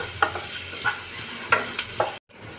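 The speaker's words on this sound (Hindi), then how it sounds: "अब प्याज को डालेंगे और इनको अच्छे से भूनेंगे।" Onions fry in a pan for upma while a spoon stirs and scrapes them, producing a soft sizzle with several distinct stirring knocks before the sound cuts off abruptly.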